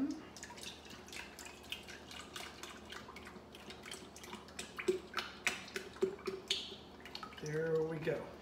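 A quart of heavy whipping cream is poured into an ice cream maker canister: soft, steady liquid trickling and dripping, fairly quiet, with small splashes growing a little busier toward the end.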